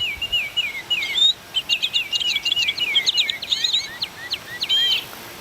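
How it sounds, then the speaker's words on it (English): Squeezing a Wild Republic Audubon plush bird sets off a recorded birdsong, a rapid, lively stream of high trills and chirps that runs for several seconds, close and clear with no talking. "You just press them and you can hear the birds sing."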